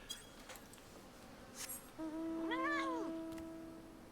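A small cat in the video game Final Fantasy XIV gives a single clear, drawn-out meow in the second half, fairly close, over a quiet background with a few faint clicks beforehand.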